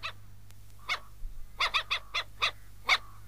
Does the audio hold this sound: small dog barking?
yes